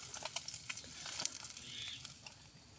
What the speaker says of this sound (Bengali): এই মাছগুলো একে একে সব ভাজা হয়ে গেল